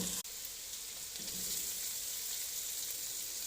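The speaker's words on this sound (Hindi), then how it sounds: "वेजिटेबल्स फ्राई हो चुकी हैं। अब मैं इसमें चावल ऐड करूँगी।" Boiled rice added to vegetables frying in a pan for chicken Manchurian fried rice, with a steady, close sizzle of oil throughout after a brief knock at the start.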